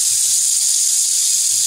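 Tap water pours steadily into a pot for boiling lasagna noodles, a loud, close, continuous hiss with no talk.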